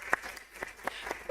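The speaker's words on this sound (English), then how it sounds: "And a big round of applause for her." Audience applause at a talk on performance art, heard as thin, scattered individual claps spaced out across a brief moment, fairly quiet and distant.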